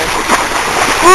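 Feet wade through a shallow stream toward a small waterfall near Pitangui, with steady splashing and rushing water close by as people talk over it.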